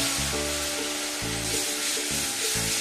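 Tomato paste frying in oil in a pan, a steady close hiss of sizzling broken by a few soft stirring scrapes, with no speech.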